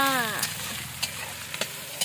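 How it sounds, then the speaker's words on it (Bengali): Fried onion and freshly added spices sizzle in a pan, a steady hiss broken by scattered clicks and scrapes of stirring, with a brief voice at the very start. "এ দেখো পেঁয়াজটা ভাজা হয়ে গেছে এখন মশলাগুলো দিয়ে দিয়েছি"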